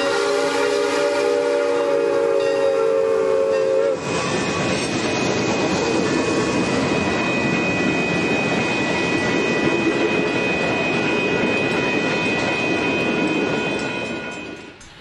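Santa Fe 3751 steam locomotive and train rumble past close by, passing under a freeway, steady rolling noise with a sustained whistle tone, after a few seconds of a loud multi-tone horn blast.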